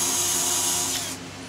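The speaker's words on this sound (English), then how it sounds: "You want to bring the hinge over to your shoulder and drill straight down." A power drill bores a pilot hole straight down into a PCC trolley door hinge, a steady close whine running for about a second before winding down.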